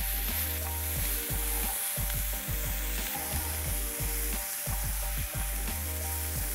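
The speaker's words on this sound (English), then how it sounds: "Saute till the rawness of the masala goes away." Masala with turmeric, kasuri methi, salt and black pepper sautéing in a pan, a steady close sizzle broken by rhythmic scraping strokes of a spatula stirring the spices, with no voices.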